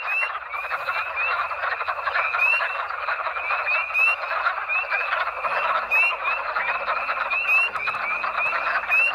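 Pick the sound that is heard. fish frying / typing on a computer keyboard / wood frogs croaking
wood frogs croaking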